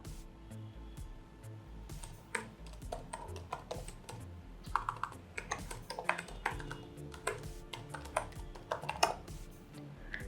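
Typing on a computer keyboard while entering an email address into a web admin form, irregular clicking keystrokes close up, steady throughout with no talk.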